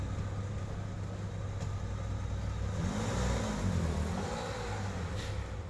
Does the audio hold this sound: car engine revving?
yes